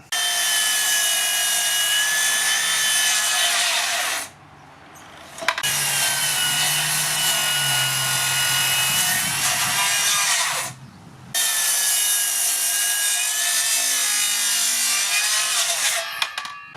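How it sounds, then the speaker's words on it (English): A Makita 40V cordless circular saw makes bevel cuts through wood, three long loud whining runs split by two short pauses where the motor winds down and the blade rubs faintly. "When you are beveling, this is what you'll get."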